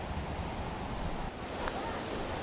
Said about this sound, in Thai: น้ำตกนี้มันจะไม่ได้เป็นน้ำตกสูงๆนะมันจะเป็นน้ำตกราบๆแล้วก็แบบมีสเต็ปลงไปเนี่ย